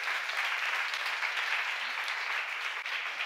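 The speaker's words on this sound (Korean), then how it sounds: "박수 하세요." A church congregation applauds during a Korean seminar sermon, a steady, even wash of many hands clapping that carries on unbroken for the whole stretch, with no voices over it.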